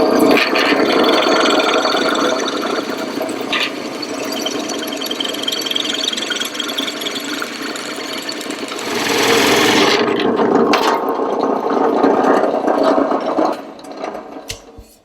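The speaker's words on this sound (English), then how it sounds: "That's just a step bit that we use." A step drill bit grinds loudly and continuously through material while cutting holes during an electric boat build, with the pitch and intensity shifting partway through before tapering off at the end.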